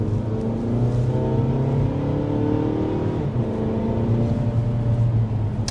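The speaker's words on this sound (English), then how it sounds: "There's an acceleration up to about 55 miles an hour." A 2024 Mazda 3 Select Sport with a 2-liter naturally aspirated four-cylinder pulls up to about 55 mph, its engine droning steadily and rising in pitch through the gears, heard from inside the cabin.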